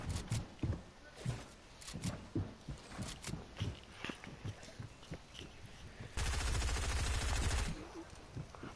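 Rapid automatic gunfire in a video game, scattered bursts of shots followed by a sustained loud volley near the end.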